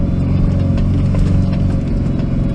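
A car engine holds a steady constant throttle while driving across soft sand on Fraser Island, a continuous loud, low droning hum with rhythmic harmonic pulsing and no talk.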